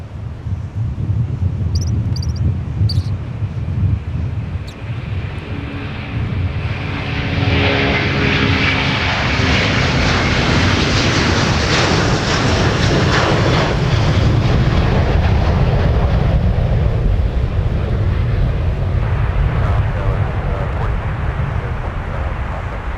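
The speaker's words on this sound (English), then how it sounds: "here's Delta 152 Heavy now departing to Paris with the A330" A Delta Airbus A330 heavy jet departing the runway at Minneapolis–St. Paul airport, its engine roar building into a loud, sustained, broadband rumble that swells and holds close by for over twenty seconds.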